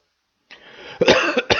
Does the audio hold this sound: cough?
yes